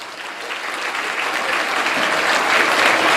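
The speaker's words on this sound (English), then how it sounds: "Give them a round of applause." A crowd claps steadily, the applause building slightly louder over a few seconds with no talking.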